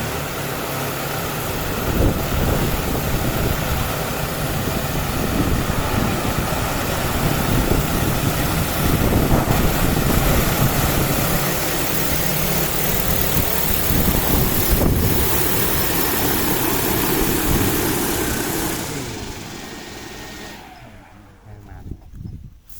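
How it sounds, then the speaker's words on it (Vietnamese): A DJI T50 agricultural drone coming in to land makes a loud, steady roar of engine and rotor wash, buffeted by wind, for about nineteen seconds before cutting off sharply. "Thì mình cùng nghe tiếng đáp đó nha, tiếng động cơ hầm hố."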